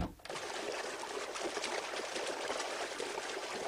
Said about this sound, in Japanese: それは水の音聞こえるやろ